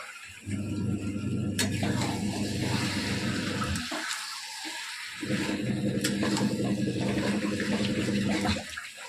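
Kitchen tap water runs for washing, in two long steady gushes of about three and a half seconds each, separated by a short quiet gap, close and fairly loud.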